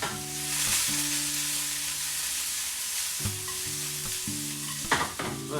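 Onions and garlic sweating in a frying pan over lowered heat, a soft steady sizzle close by with a low humming tone running beneath and a couple of clattering utensil knocks near the end.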